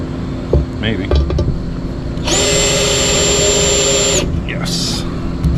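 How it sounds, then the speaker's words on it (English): A power drill whirs steadily for about two seconds while boring into a Corvette valve cover on a 1956 car, with someone talking before and after it over a constant background hum. "I'll drill from this side."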